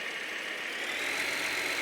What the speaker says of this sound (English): The tractor I'm using here is a Massey Ferguson 8140.